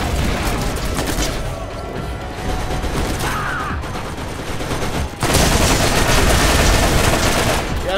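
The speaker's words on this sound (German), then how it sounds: "Warum explodieren hier alles? Weil ich gerade immer noch den Raketenwerfer drin hab." Rocket launcher fire in the video game Borderlands sets off dense, continuous explosions and rapid gunfire, loud and close, with a brief dip before the barrage surges even harder.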